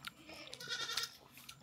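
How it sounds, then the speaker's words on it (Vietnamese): A goat from a herd of about forty-two on a mountain farm bleats in a short, wavering cry, close and fairly loud against quiet outdoor background, with no talk. "Dê cười he he."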